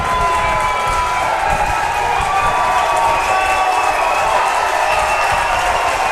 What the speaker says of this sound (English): the crowd absolutely love it here at Riverway Stadium